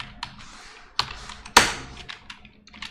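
Someone types on a faulty computer keyboard that skips keys, giving scattered close clicks and taps with one louder keystroke in the middle, with no voices.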